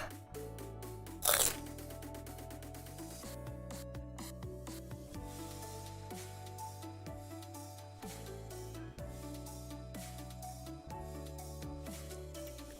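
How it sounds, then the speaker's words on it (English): Sour cream and onion potato chips crunch steadily between the teeth, close to the mic, with one loud bite near the start followed by repeated lighter crunching and chewing. "I don't know if you can hear me chewing or not."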